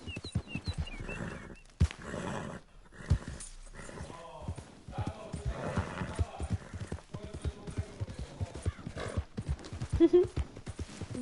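Horse hooves clip-clop in a steady galloping rhythm in Red Dead Redemption 2, mid-level and continuous, with occasional whinnies and people talking over it.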